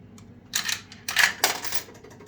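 Coins dropping through a top-loading coin mech on a fruit machine, three quick clattering metallic clicks spaced about half a second apart, close and fairly loud with no talk.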